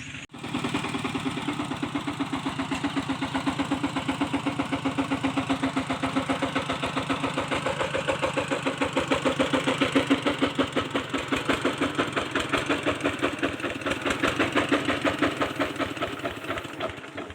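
A car engine idles steadily and fairly loud for the whole stretch after being driven and parked beside a cassava plot, a continuous low rumble with a fine regular pulsing and no speech over it.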